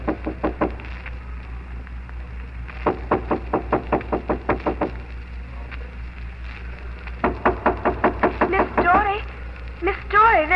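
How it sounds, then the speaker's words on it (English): Knocking on a door in an old radio drama, heard as bursts of rapid, firm raps separated by pauses, with a voice breaking in near the end, all through narrow, muffled broadcast sound. "Miss Dory, there's somebody knocking."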